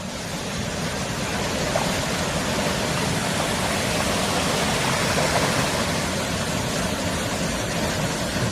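The Río Tinto flows past nearby ruins of an old dam, a steady rushing hiss of running water, loud and continuous with no voices.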